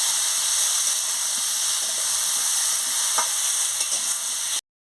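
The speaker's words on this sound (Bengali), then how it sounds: "দিয়ে ভালো করে আনাজটাকে কষিয়ে নিচ্ছি।" Vegetables for a Bengali chorchori of drumstick stalks, potato, carrot and eggplant fry with turmeric and chili powder in a continuous loud sizzle with stirring. The sound cuts off abruptly near the end.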